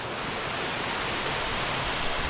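An outback waterfall by a swimming hole gives a steady, dense hiss of falling water, loud and even throughout a short stretch with no voices.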